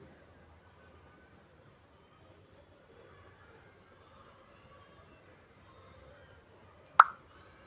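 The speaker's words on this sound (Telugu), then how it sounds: "ఇప్పుడు నీట్గా కడిగి పెట్టుకున్న చికెను అందులో వేసుకోవాలండి" Washed chicken tipped into a hot kadai gives a single loud, brief plop near the end, following several seconds of quiet, low background.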